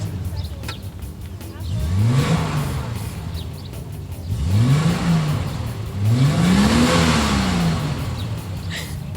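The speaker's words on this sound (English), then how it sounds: "listen to the exhaust. Oh. Do you hear it purr?" A car exhaust purrs and rumbles, rising three times in throaty revs before settling back to a steady idle, close and loud.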